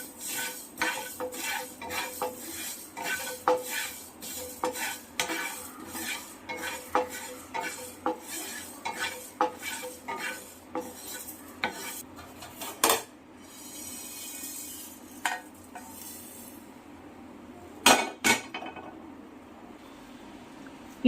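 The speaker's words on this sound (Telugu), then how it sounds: "ఒక ప్యాన్ పెట్టుకొని అందులో 2 టీ స్పూన్ ధనియాలు, 1 టీ స్పూన్ జీలకర్ర వేసుకొని బాగా రోస్ట్ చేసుకొని" Coriander and cumin seeds dry roasting in a pan, stirred with a metal spoon: a steady run of sharp scraping and clinking strokes against the pan over a faint dry rustle, with a few louder knocks near the end.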